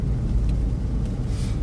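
Steady low rumble of a car on the move, heard from inside, with constant road and engine noise and no speech.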